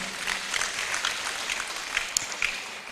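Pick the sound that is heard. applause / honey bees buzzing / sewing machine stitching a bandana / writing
applause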